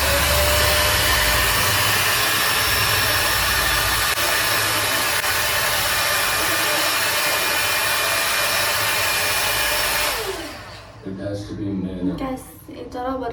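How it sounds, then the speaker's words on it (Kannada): A 5-in-1 hair dryer runs as a loud, steady broadband whoosh for about ten seconds close to the microphone, then cuts off, leaving softer sounds and faint voices. "ಆ್ಯಂಡ್ ಇದು ಸ್ಟ್ರೈಟ್ನಿಂಗ್ಗೆ, ಇದು ಡ್ರೈಯರ್."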